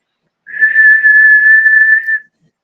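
A voice imitates a loud, high-pitched, monotone whistle with no melody, one steady sustained tone lasting about two seconds, close and alone.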